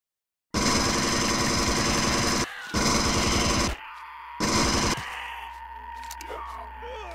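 Pulse rifle in the game Empyrion firing loud, sustained bursts at close range, three long streams separated by short pauses, followed by a quieter hum.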